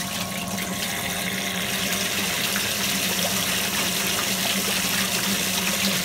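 Steady, continuous rush of water discharging from a 32mm pipe through a close-coupled elbow into a soil stack during a Hotun HiFlo SF flow test, at about 23 litres a minute, loud and unbroken throughout with no talking.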